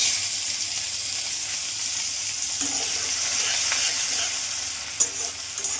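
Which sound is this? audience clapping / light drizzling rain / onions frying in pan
onions frying in pan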